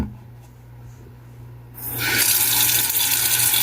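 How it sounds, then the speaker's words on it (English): Tap water starts rushing into an electric kettle after a quiet moment with a low hum, then fills steadily and loudly at close range. "what I have to do is I have to fill it up with water"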